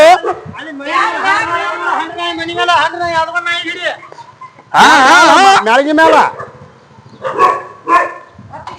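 A dog barks in repeated bursts outdoors near a house, loud and close, mixed with excited shouting from several people who talk over it throughout.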